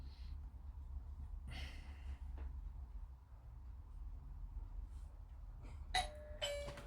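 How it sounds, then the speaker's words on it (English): A doorbell chimes near the end, sharp and brief against an otherwise quiet room with soft rustling. "Sorry about the doorbell going off"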